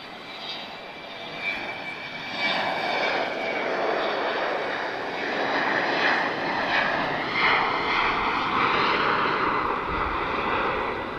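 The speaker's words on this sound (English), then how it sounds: "Oh, that's a BizJet I never noticed before." A business jet at Lisbon Airport roars steadily for about eleven seconds, its broad engine noise swelling after the first couple of seconds and holding loud and close.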